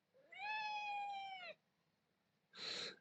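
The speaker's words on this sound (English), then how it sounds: "he's one of the most talkative cats we've ever had" Talkative house cat lets out a long, clear, drawn-out meow lasting over a second, then after a pause a short, breathier chirp, close and alone with no talking.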